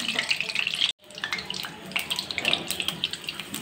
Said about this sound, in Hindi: बिल्कुल परफेक्ट फ्राई हो रहा है, आंच भी बिल्कुल ठीक है।